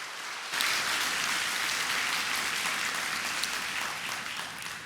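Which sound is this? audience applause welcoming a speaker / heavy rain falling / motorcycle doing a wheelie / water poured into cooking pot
audience applause welcoming a speaker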